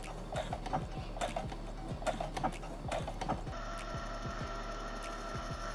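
A sewing machine runs in quick rhythmic bursts of clicking and clattering as it stitches the opened seams of a pair of jeans closed, close up and fairly quiet, with a steadier mechanical hum toward the end.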